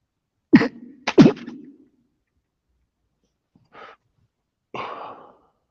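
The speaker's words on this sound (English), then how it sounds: "I'm coughing like a motherfucker." Two sharp, close coughs in quick succession, followed after a pause by two softer throat-clearing or breathy coughs.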